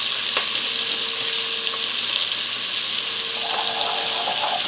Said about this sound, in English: I'm going to take the rest of my excess flour. It's going to go in there.